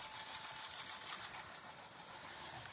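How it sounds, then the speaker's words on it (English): Sewing machine running steadily as it stitches a notebook cover, a continuous close mechanical whir with a fast even stitching rhythm. "2 side stitch on the machine"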